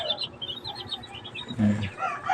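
Broiler chickens about 45 days old, one of them eating, give off soft, steady clucks and chirps close by, with a louder burst of clucking partway through.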